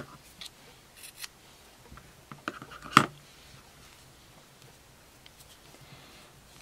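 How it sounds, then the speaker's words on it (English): Scissors snip crochet yarn during work on a Peter Pan collar, giving a few faint, brief clicks and one sharper snip in an otherwise quiet room. "and then I'm going to cut my yarn."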